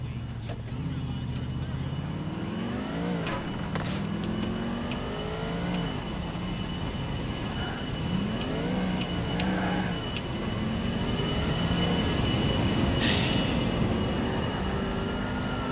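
A train rolls past in Grand Theft Auto IV, a continuous loud rumble of wheels with some squealing and rising and falling engine tones throughout, while people talk over it.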